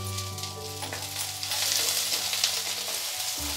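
Cauliflower and capsicum fry in a pan of oil for a vegetable pulao, making a steady close sizzle that grows slightly louder partway through.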